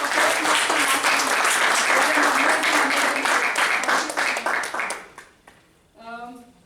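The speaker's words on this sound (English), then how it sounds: "A big round of applause for Toastmaster" A room full of people at a Toastmasters club meeting applauds warmly for several seconds, the clapping thinning out and fading before a voice begins speaking at the end.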